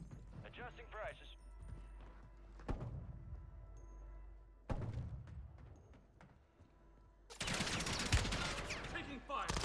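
Gunfire in Warzone 3 on Rebirth Island: scattered shots and automatic bursts at varying distances, building into a dense, loud volley near the end, with voices talking over the action.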